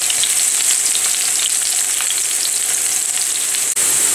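Onions frying in a pan until light brown for hotel-style gobi manchurian, a steady, loud, continuous sizzle with faint stirring scrapes, and one brief dropout near the end.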